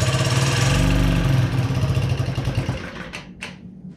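A Honda Met scooter engine idles close by with a rapid, buzzing putter that slows and fades toward the end, followed by a couple of short hissy bursts.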